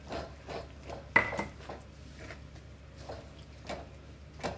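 Fried coconut pieces stirred into a pan of ghee and cardamom powder, giving soft repeated scraping and metallic clinks of a spoon against the pan, with one sharper knock partway through, close and steady without talk.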